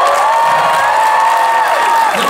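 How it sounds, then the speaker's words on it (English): A large audience at a San Diego Comic-Con 2017 panel erupts in loud cheering, clapping and whoops that fill the room continuously for the whole brief moment. "Some applause."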